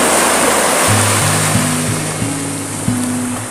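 Sea waves wash up a beach close by, a steady broad surf roar filling the clip, with a low engine-like drone stepping in pitch underneath from about a second in.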